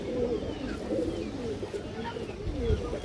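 An Afsan Bagdadi pigeon in breeding mood gives a low, rolling coo that repeats throughout, close by and moderately loud against a busy background hum.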